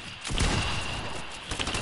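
Pump shotgun fire in a PS4 shooter game, loud booming shots with a rapid burst near the start and another blast toward the end, mixed with game effects.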